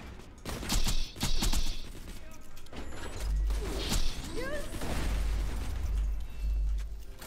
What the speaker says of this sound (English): It's explosions!